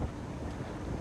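Strong wind at sea in the Lombok Strait during the evacuation of the ferry KMP Putri Yasmin, roaring as a constant, dense buffeting rumble across the microphone with no talk.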